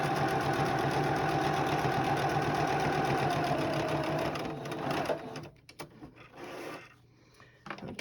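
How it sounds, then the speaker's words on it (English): A sewing machine stitches a charm pack quilt star block along a marked line, running in a steady rapid whirring chatter for about five seconds before stopping, followed by a few quieter handling sounds. "we're going to stitch right on that line, directly on the line"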